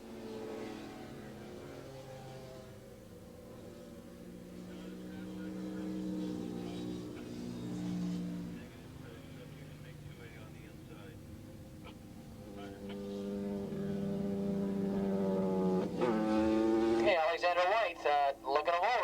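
450cc modified production motorcycles racing at Willow Springs International Raceway: engines drone and rise in pitch as they accelerate past, growing louder toward the end, under a continuous commentator's voice.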